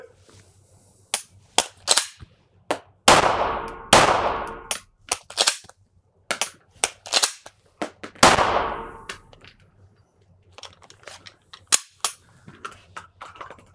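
Pistol shots ring out during a malfunction-clearing drill at shooting training, with several sharp, loud reports spaced by pauses and mixed with metallic clicks and clacks of the slide being racked and handled.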